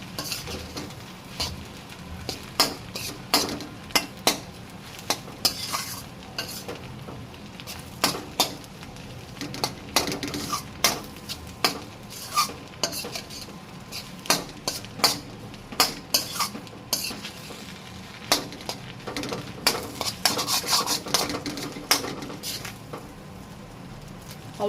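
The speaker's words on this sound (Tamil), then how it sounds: "எல்லா இடத்துலையும் நம்ம நல்லா கிளறி விட்டுட்டோம்" Spicy Indian-style egg pasta being stirred in a pan, a metal utensil scraping and clinking against the pan in a steady irregular rhythm over a soft sizzle, close and fairly loud, with no talking.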